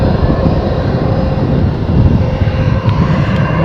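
A Jetstar airliner passes close overhead, its engines a loud, steady broadband roar that fills the whole stretch without a break.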